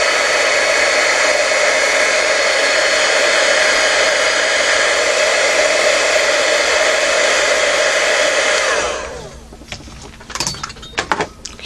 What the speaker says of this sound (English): if you heat it just a bit, the glitter sticks a little bit better. So I'm going to go ahead and do that, just using the heat stick